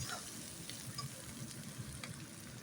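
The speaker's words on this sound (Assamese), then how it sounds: "এইবাৰ অকণমান ভাজি ল'ম এনেকৈ, ভাজা ভাজা হৈ আহিছে।" Turmeric-coated fish frying in hot oil for a thin fish curry gives a steady, fairly quiet sizzle with light spattering and faint stirring clicks, no voices.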